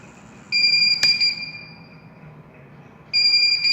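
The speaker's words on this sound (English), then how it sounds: "It is also giving this beep sound" Two loud electronic beeps from a Fire Bird V robot with a faulty right motor, each a steady high tone lasting about a second, separated by a pause with a brief click between.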